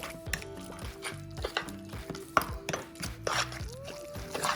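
Guacamole with lime juice and salt being mixed in a bowl, giving a series of close, irregular wet stirring knocks and scrapes over a steady background tone.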